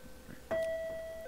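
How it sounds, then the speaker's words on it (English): A single electronic doorbell chime in the game Nekopara rings out clearly and sustains as a steady tone over a quiet background. "there's a bell. Like a doorbell."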